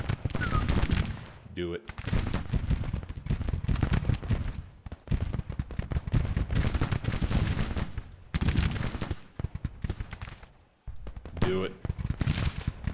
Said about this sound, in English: But what we can do is bombard.